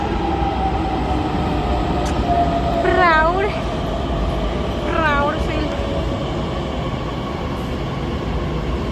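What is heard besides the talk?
metro train running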